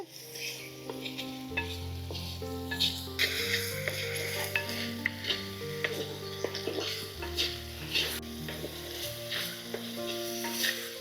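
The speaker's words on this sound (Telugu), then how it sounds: "ఉల్లిపాయ ముక్కల్లోనే రుచికి సరిపడి ఉప్పు వేసేసుకోవాలండి ఉల్లిపాయ ముక్కలు బాగా మగ్గుతాయి" Chopped onions with salt sauté in a pan with a steady close sizzle and occasional light stirring clicks, and a sustained musical tone runs underneath.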